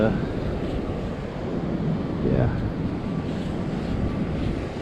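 Rough ocean surf and gusting wind at Pensacola Beach roar steadily and loudly as a broad wash, with the wind buffeting the microphone; a person speaks briefly over it.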